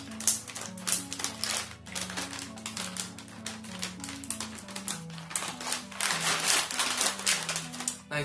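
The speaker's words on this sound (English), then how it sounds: "Zipper." A zipper is pulled open in several quick rasping bursts, close and moderately loud, over steady background music.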